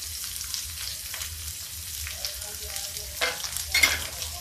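Finely chopped onion frying in a pan with black desi chickpeas, a steady soft sizzle with occasional stirring scrapes and a couple of louder bursts near the end, no talking.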